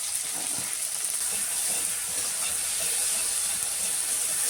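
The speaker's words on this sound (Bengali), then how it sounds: "এই টমেটো কুচির মধ্যে পরিমাণ মতো লবণ, পরিমাণ মতো হলুদ দিয়ে ভালো করে ভেজে নেব।" Chopped tomatoes frying with salt and turmeric in a pan give off a steady, loud sizzling hiss that holds evenly from start to finish.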